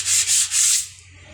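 Sandpaper rubbed by hand across a wooden surface to level bumps, three loud rasping back-and-forth strokes in quick rhythm, close up, before the sound fades out.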